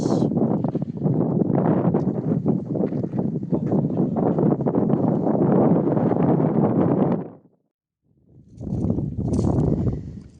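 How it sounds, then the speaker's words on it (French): Strong wind among ruins on a small hill in Andalusia, Spain, buffets the microphone in loud, rumbling gusts, dropping briefly to near silence before another blast returns. "il y a un petit peu de vent comme d'hab"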